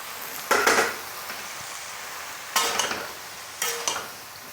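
Eggplant frying with masala in a pan, three loud bursts of spatula scraping and metal clatter against a low steady sizzle, no voices.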